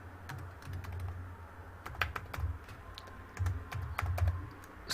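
Computer keyboard clatter while code is entered in a Jupyter notebook: fairly quiet, irregular bursts of keystrokes with brief pauses between them and no speech.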